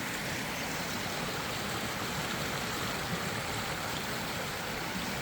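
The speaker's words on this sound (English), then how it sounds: "You possibly hear the roaring of the creek." A creek swollen by flooding in Kentucky roars as a steady, dense rush of water, loud and unbroken for the whole stretch with no voices over it.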